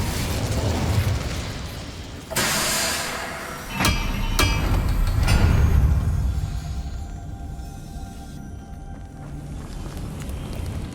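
Incendio fire spell cast in the Hogwarts Legacy video game, a loud burst at about two seconds followed by sharp whooshing blasts and a roaring rumble that fades into quieter ambience.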